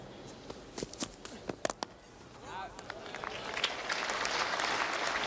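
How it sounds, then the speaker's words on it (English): Crowd at a New Zealand versus England cricket match applauding a fielder, scattered claps building into steady, fairly distant applause over stadium ambience. "Applause there for Crow, Martin Crow."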